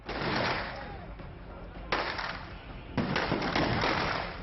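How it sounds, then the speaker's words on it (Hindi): Celebratory gunfire at a wedding, heard as a dense, continuous crackle of many rapid shots with a few sharper bursts standing out, muffled and distant, blended with crowd noise. "दनादन चलती गोलियां फायरिंग कंपटीशन का एहसास करा रही हैं।"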